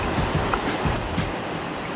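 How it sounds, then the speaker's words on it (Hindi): Water streams down a mountainside on the Shrikhand Mahadev trek, a loud, continuous broadband rushing close by, with no voices. "एक तरफ आज पहाड़ टपक रहा पानी का"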